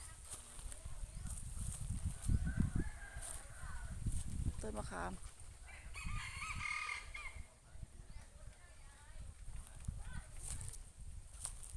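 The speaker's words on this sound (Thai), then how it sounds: "โอ้ไก่ขันไก่ขัน" Rooster crowing among rural rice fields, a couple of distinct crows rising over someone talking nearby, with clucking and outdoor background noise around them.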